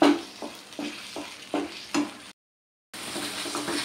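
Thick coconut milk halwa stirred in a pan for Iftar, a few spoon scrapes and soft sizzle in an uneven rhythm, close and clear, then a brief silence before the stirring resumes.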